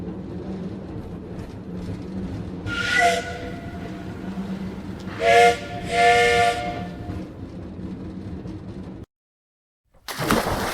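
In an animated My Little Pony parody movie, a steam train called the Sky Train blows two loud, close whistle blasts over a steady hiss and rumble. The sound cuts abruptly to silence, then a burst of noise returns.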